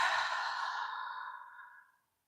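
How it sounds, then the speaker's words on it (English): One long, deep exhale through the mouth, a breathy rush that starts strong and fades smoothly over about two seconds, close and alone. "and exhale through the mouth."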